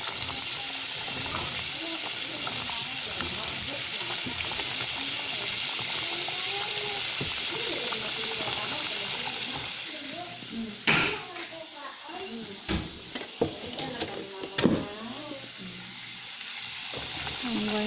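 Vegetables sizzle and fry steadily in a hot pan, a dense continuous hiss, with sharper clattering stirring knocks toward the end.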